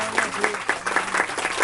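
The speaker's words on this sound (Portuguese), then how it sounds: "Quantos podem aplaudir ao Senhor?" Congregation applauding at a Portuguese-language youth service, a crowd of clapping hands with sharp repeated claps, loud and close, while a voice talks over it.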